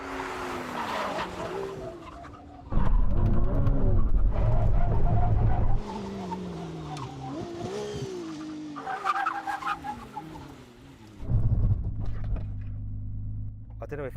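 A McLaren P1 braking hard during a race against a Ferrari 296 GTB: engine roar drops and tires squeal over several seconds, with loud surges and a commentator talking over much of it.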